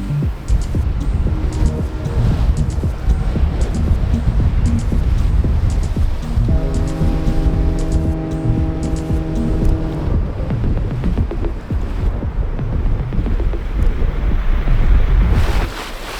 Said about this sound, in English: we've found it to be funneling and gusting through this bottleneck